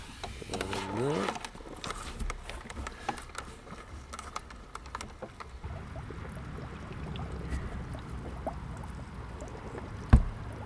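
A homemade pond surface skimmer with a cylindrical air stone, drawing surface water and debris into its basket. Soft, continuous lapping and gurgling water runs throughout, with a brief clunk near the end.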